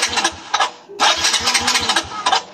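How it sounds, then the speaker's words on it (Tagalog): Suzuki Raider J115 FI motorcycle engine cranking and struggling to catch, with repeated starter bursts, a brief pause, then a rough sputtering run, loud and close. "Subukan muna natin hindi mag-throttle kung umandar."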